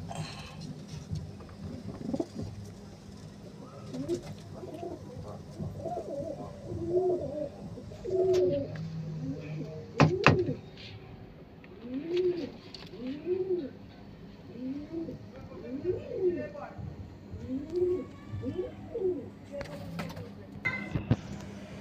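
Pigeons in a breeder's loft coo repeatedly in soft, rolling phrases close by, with scattered flutters and shuffles and a sharp knock midway.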